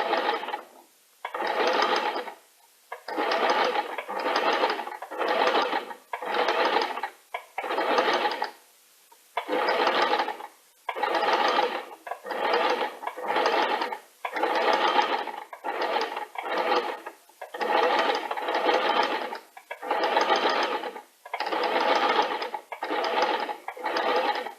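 A domestic sewing machine stitches fabric in a rapid mechanical whir, running in short bursts separated by brief pauses, close and clear with no talk over it.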